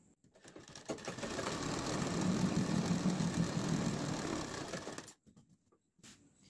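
A sewing machine stitches folded fabric for palazzo pants with pintucks, running steadily for about five seconds in one continuous, fairly close whirring burst, then stopping with brief faint clicks.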